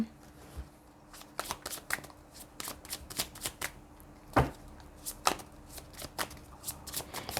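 Tarot cards are shuffled and drawn close up, with soft riffling flutters and crisp snapping card slaps at an uneven pace against a quiet room background.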